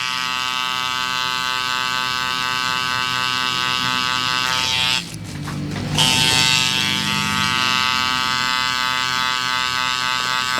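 A tattoo machine hums in a steady, close electric drone while tattooing a Super Mario design with a small needle setup, briefly dipping in pitch midway as if pressed to skin, with no voices.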